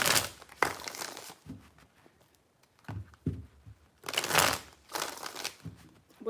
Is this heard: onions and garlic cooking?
no